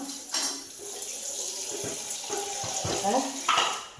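Tap water runs steadily into a sink in a home kitchen while rava-coated fish is prepared, a continuous hiss with brief clatters and a louder gush near the end.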